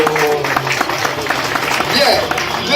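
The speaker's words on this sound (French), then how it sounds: "On applaudit." Wedding guests applaud during a church wedding ceremony, a steady wash of clapping across the whole stretch with voices and crowd murmur mixed in.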